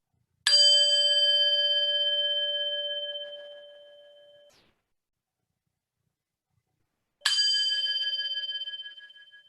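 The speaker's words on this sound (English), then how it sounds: "So I'm going to ring the bell to bring us more formally into this meditation." A meditation bell is struck twice, each strike a bright, clear ring that hangs and fades slowly over several seconds, the second following after a long silence.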